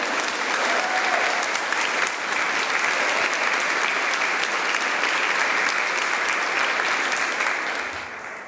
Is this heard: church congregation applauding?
yes